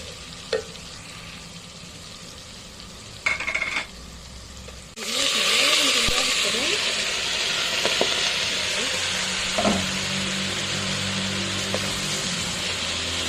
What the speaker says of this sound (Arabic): فهنا بقى هنقلب الثوم اهو